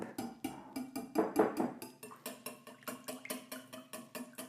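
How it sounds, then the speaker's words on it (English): Eggs and batter for cornbread are whisked in a bowl, giving a brisk, even run of close tapping strokes with no pauses. "now we're gonna go ahead and whisk it all up"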